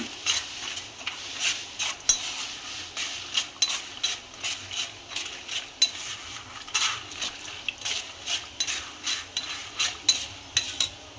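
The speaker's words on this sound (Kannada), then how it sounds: "ಇವಾಗ ಒಂದು ಸ್ವಲ್ಪ ಬಾದಾಮಿ, ಅದನ್ನು ಸ್ವಲ್ಪ ಕೆಂಪಾಗಂಗೆ ಹುರ್ಕೊಳ್ಳೋಣ." Almonds being fried in a pan until reddish for a sago chivda snack, a steady run of rhythmic scraping and clinking strokes of a spoon stirring them, close and clear with no talk.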